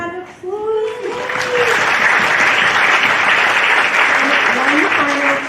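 An audience applauds at a science week lecture, a steady wash of dense clapping that swells quickly and holds loud throughout, with a voice speaking briefly over it at the start and again near the end.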